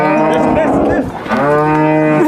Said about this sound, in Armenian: Վայ, կովերին տարան։